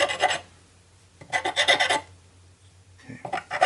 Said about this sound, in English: I'm just going to get the burrs off real quick.